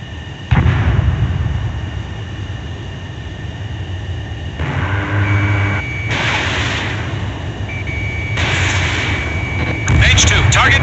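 Fighter jets roar and missiles launch repeatedly in the combat flight game Ace Combat 7, with bursts of engine noise and weapon fire over steady background rumble while a radio voice talks.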